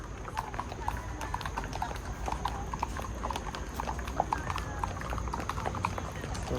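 Horse hooves clip-clop steadily during a group horseback ride in Baguio City. The quick, even footfalls run close and clear throughout, over a soft outdoor background.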